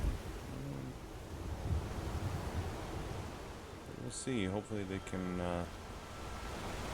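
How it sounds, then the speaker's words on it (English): Rushing water from a fast-moving river in Skyrim, a steady broadband wash of flow running throughout, with a voice talking over it partway through. "This is a very fast-moving river."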